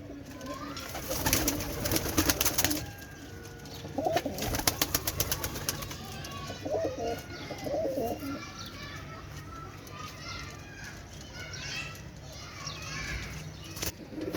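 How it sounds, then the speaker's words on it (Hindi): Fancy pet pigeons, including blue ones, coo softly in short repeated phrases at close range, with rustling, scattered clicks and faint background voices of people and children. "हमारे ये प्यारे कबूतर हैं, शौक वाले कबूतर हैं जी हमारे।"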